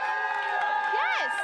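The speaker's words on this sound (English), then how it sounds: "Audience, cheer loudest for whoever you think won." A studio audience cheers and whoops for a contestant on a sports show, a loud, busy crowd roar with high rising shouts and voices mixed in throughout.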